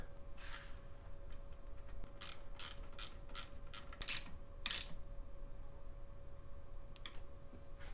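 A coolant cap being twisted back onto a Kawasaki KX250 motorcycle, a quick run of sharp ratcheting clicks in a close, quiet space, followed by a few isolated faint clicks.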